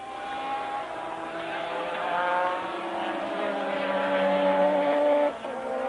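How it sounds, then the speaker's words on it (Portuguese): A Formula 1 car at the 1984 Brazilian Grand Prix rounds a corner, its engine whining at a high pitch and rising in tone, then drops off abruptly as it passes. "Aí vem Prost contornando a curva da vitória"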